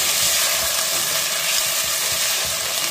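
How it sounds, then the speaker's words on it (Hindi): Chicken fries with ginger and garlic in a hot pan, a loud, steady sizzle and crackle filling the whole stretch without pause, with no one speaking. "जो कच्चा पानी है अदरक लहसुन का वो भी खत्म हो गया और जो चिकन है वो भी अच्छे से फ्राई हो जाए"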